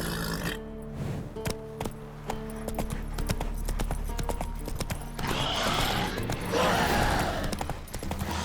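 Horse hooves gallop in a steady, rapid clip-clop rhythm across The Witcher 3, loud and close, over a layered game soundscape with music and ambient rumble, rising into a louder rush near the end.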